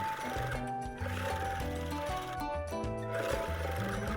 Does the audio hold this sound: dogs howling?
no